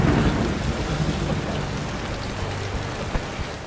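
Steady heavy rain pours through a thunderstorm, with a dense wash of drops and low rumbling in the background; no one speaks, and one brief sharp crack stands out near the end.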